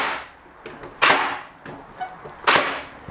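A Makita 40V cordless nailer driving long nails into wood, two loud sharp bangs about one and a half seconds apart with fainter mechanical clicks between, close up and without talk.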